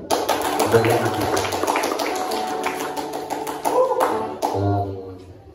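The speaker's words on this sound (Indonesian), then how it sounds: "Tepuk tangan untuk mereka." Audience clapping for event organisers at a fifth-anniversary gathering of a Batak youth community, a run of sharp irregular hand claps mixed with overlapping voices and chatter that trail off toward the end.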